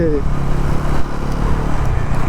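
Engine of a Bajaj Pulsar NS400Z motorcycle pulling hard past 4000 rpm, a loud, steady close-up drone with speech over it.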